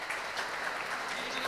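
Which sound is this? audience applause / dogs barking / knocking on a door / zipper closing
audience applause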